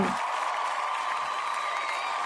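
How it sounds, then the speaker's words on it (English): Canned applause effect on a podcast, a brief burst of crowd clapping and cheering at steady level, heard alone after a short sound at the start. "I have some applause here"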